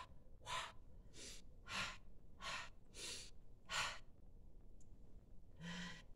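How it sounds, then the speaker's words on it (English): A person breathes slowly in and out during a stress-relief exercise, with about seven soft, airy breaths in an even rhythm, close and quiet with no speech. "Do a little spontaneous breathing in and out."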